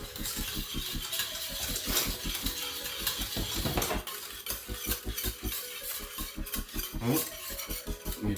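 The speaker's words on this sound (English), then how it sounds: "You want to keep stirring this until basically all the lumps are out of it." Cheese sauce being stirred smooth in a metal pot for baked mac and cheese, a steady rhythmic scraping and clinking of a utensil against the pot, moderately loud and close, with no talking.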